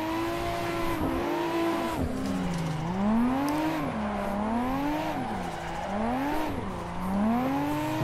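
Engine revs rising and falling in repeated sweeps from a car drifting with clutch kicks in a multiplayer driving game, with continuous tire squeal throughout at steady close range and no talking.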